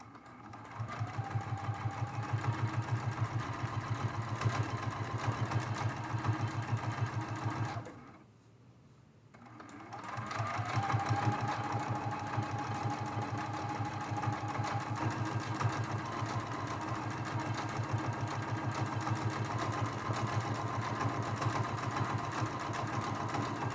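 A sewing machine runs steadily while quilting a stiffened fabric block, a fast even mechanical hum with a brief pause partway through before stitching resumes, close and continuous.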